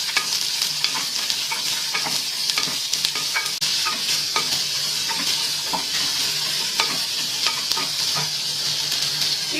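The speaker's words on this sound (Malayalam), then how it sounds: "നമുക്ക് ഈ ഉള്ളി ഇട്ടൊന്ന് വഴറ്റിയെടുക്കണം" Sliced onion and tomato sizzle and fry in a pan for a matar paneer curry, with steady close frying hiss and repeated spoon-stirring scrapes throughout, no voices.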